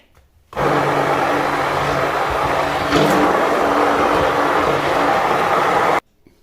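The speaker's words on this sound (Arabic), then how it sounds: "maintenant je le mixe avec le mixeur" An electric blender whirs steadily for about five seconds while mixing food for savory chicken-stuffed fatayer, loud and close, with a slight pitch shift midway as the load changes and no talking over it.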